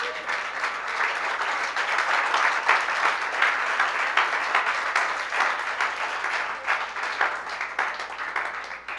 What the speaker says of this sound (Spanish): ¿Cuántos damos un aplauso al Señor?